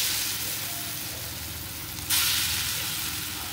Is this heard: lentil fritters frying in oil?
yes